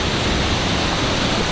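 A waterfall at Thousand Palms in Thailand pours with a dense, steady rushing roar, loud and close, unbroken for the whole stretch with no voices.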